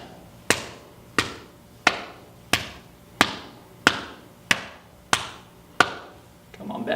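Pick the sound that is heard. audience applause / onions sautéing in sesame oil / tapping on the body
tapping on the body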